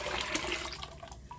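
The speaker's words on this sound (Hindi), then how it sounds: "अब इससे में कुकर का बचा हुआ पानी भी डाल दीजिए।" Leftover water from a pressure cooker is poured into a pot while making mango panna, a close splashing gush of liquid that runs steadily and tapers off.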